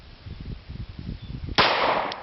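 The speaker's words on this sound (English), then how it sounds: "let's just fire a couple of rounds here at close range into the dirt" A gunshot fired at close range into soft dirt, one sharp, loud report bursting in near the end after a stretch of low, muffled rumbling.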